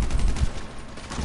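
Rapid gunfire in GTA 5, a short, loud, continuous crackle of overlapping shots with no pauses.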